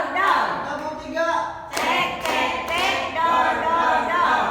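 A group claps along in a call-and-response rhythm game at a positive-culture workshop, several sharp clap bursts mixed with voices chanting and calling out between them.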